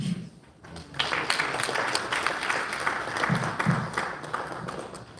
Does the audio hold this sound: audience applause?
yes